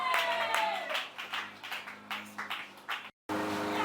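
A church congregation at a mission centre anniversary claps and acclaims, giving a burst of mixed clapping and voices with a sustained tone under it, pulsing in rhythmic swells, then a brief cutout before the sound resumes.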